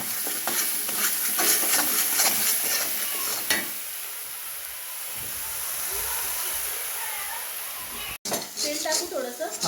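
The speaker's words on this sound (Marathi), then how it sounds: "आता चांगल्या प्रकारे आपण मिक्स करून घेऊया कांदा टमॅटो आणि अंडा" Onion, tomato and egg bhurji is stirred in a hot pan, giving steady sizzling and frying hiss with scraping spatula strokes, loud and close, fading to a quieter sizzle before a brief cut and renewed clatter.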